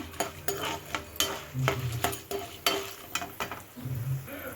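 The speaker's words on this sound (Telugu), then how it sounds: "ఒక స్పూన్ ఆవాలు ఒక స్పూన్ మినపప్పు వేసుకుంటున్నాను నేను ఇవి కూడా వాటితో పాటు కలిపి వేపేసుకుందాము" Mustard seeds and urad dal frying in oil, made for tamarind pulihora, with a spoon scraping and clinking against the pan in irregular strokes over a soft, close sizzle.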